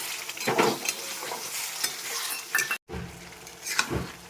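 A spoon stirs chicken and sour yogurt in a hot frying pan, giving repeated scraping strokes over a soft sizzle, close and fairly quiet, with one brief silent gap.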